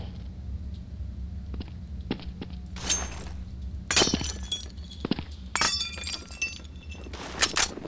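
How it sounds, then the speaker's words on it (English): Glass breaking in the video game Counter-Strike: Source, several sharp shattering crashes with tinkling shards scattered across a few seconds over a low background hum. "That's why you break glass."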